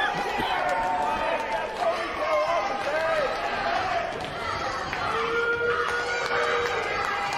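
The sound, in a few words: wrestling event crowd cheering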